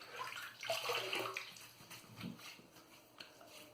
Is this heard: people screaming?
no